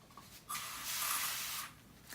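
A single hissing spray burst lasting about a second, close and fairly quiet, with brief soft clicks around it.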